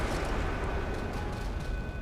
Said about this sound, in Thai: จะทำการทิ้งระเบิดกันนะครับ